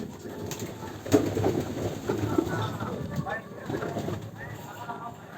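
Pigeons coo softly inside a pigeon house, a low burbling chorus heard under someone talking nearby.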